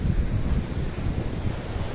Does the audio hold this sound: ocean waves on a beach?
yes